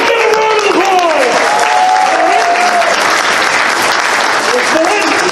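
A crowd at an improv comedy show breaks into a loud round of applause and cheering, with dense clapping throughout and voices talking over it.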